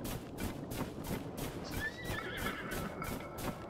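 A horse in Zelda: Tears of the Kingdom gives a loud, rising whinny midway, with steady clip-clop hoofbeats pulsing throughout.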